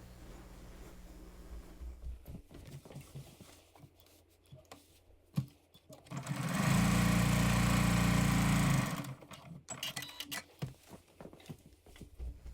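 A sewing machine stitches a quilt block with a steady, close whirring hum lasting a couple of seconds, framed by quieter rustling of fabric and handling noises.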